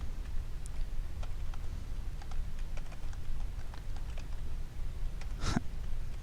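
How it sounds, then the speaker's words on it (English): Typing on a computer keyboard for a Google search, a quiet run of irregular key taps close by over a low room hum, with one louder clack near the end. "I'm having trouble typing."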